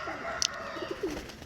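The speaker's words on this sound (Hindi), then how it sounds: "तो ये कबूतर सारे हमारे मुकीम साहब के हैं," Soft, low pigeon coos rise and fall close by, with a brief flutter of sharper chirps in a steady ambient background.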